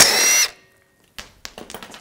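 An impact gun or power tool spins off a 17 mm wheel lug bolt on a 2006–2010 BMW 550i, one loud close whirring burst that stops abruptly, followed by a few faint clanks and handling noises.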